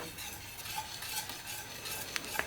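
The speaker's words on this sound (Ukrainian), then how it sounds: "Ставимо на середній вогонь та весь час помішуючи, доводимо до перших пузирів." Pumpkin pie filling is stirred in a pot over medium heat, with a soft continuous scraping and faint sizzle, then two sharp utensil taps against the pot near the end, close and quiet.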